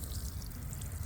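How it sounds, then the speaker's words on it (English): Water is poured over newly planted plants in garden soil, a soft, steady trickle close by that runs for about a second with no voices. "now all we're gonna do is water these in really good"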